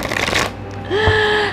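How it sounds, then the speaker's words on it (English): A deck of cards is riffled in a quick, close burst of papery fluttering, then a brief pause and a settling shuffle, with no talking. "See if I can do a better shuffle than that."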